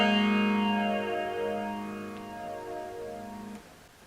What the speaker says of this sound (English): for this, you're going to need the distortion